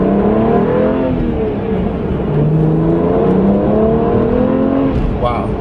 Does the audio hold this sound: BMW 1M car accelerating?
yes